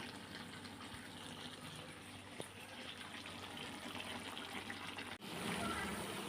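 Water pours and gushes steadily into a pan of curd-based spice paste made with ground ginger, cumin, cashew, coriander and black pepper, a continuous splashing rush over several seconds with a brief break near the end.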